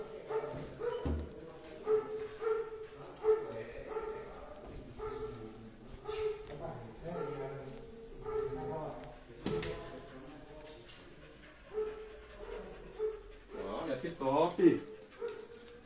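A dog whimpering and yipping in short bursts near someone talking steadily, with a louder flurry of whines toward the end.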